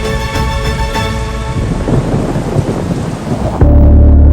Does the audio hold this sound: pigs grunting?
no